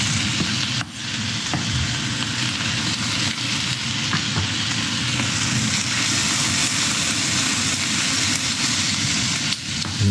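Cabbage with garlic, onion and chicken frying in a pan, a loud, steady close-up sizzle that holds unbroken for the whole stretch with faint stirring scrapes underneath.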